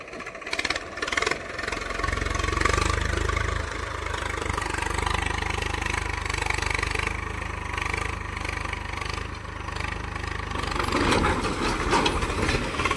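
Tractor engine running steadily while ploughing a field of fodder grass and reversing, a continuous low mechanical drone that swells slightly and holds close and loud throughout, with no talk.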